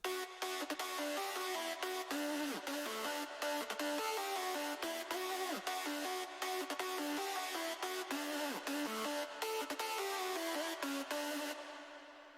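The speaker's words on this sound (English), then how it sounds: "the compression, which I just do on the fruity limiter" A UK hardcore hard dance synth lead, compressed with Fruity Limiter, plays a fast rhythmic pattern of bright, buzzy stabs and sliding notes for about twelve seconds, loud and alone, ending in a short fade.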